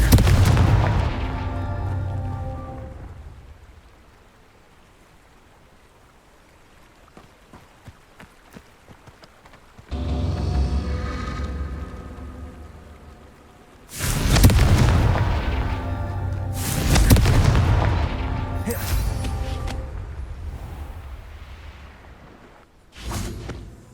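Fiery spell blasts burst in a Hogwarts Legacy castle duel, several loud booming explosions with whooshing tails arriving in clustered bursts, separated by a quieter stretch of scattered crackles.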